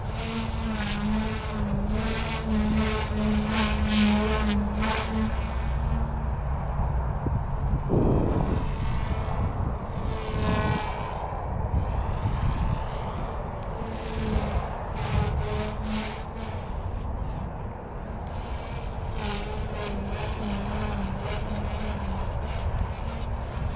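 A Goosky S1 RC helicopter flies nearby with its rotor spinning, a loud, continuous whine that shifts in pitch as the head speed drops back down under the governor.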